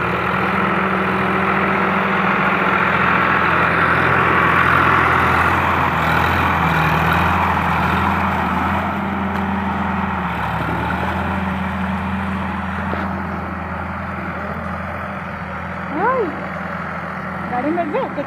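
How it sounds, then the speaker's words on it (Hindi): A tractor engine drones steadily and loudly throughout while it works a field being ploughed for paddy sowing, a continuous low rumble with a slight shift in pitch partway through. "मजा आती ट्रैक्टर देखे में"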